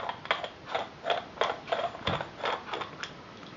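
A WW1 German Z.s.u.m W.M fuse being unscrewed by hand, producing a series of small metallic clicks and ratcheting ticks in an uneven rhythm, close and fairly quiet with no talking.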